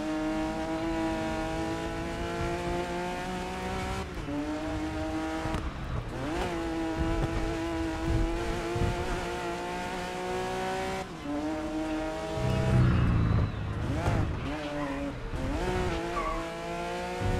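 A Porsche race car in the GRID Legends racing game drives at speed, its engine note holding steady, rising and dipping through gear changes, with brief tire squeal, all loud and continuous with no talk.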